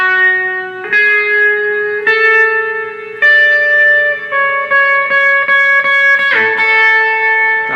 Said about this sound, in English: you'll hear this guitar will actually do a little kind of slide down